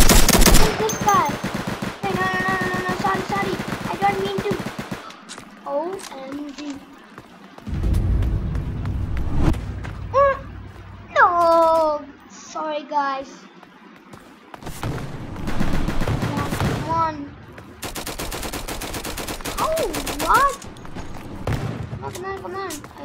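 Gunfire in a Roblox red-versus-blue flag game, bursts of rapid shots in the opening seconds and again later, broken by stretches where a young player talks excitedly over the game sounds.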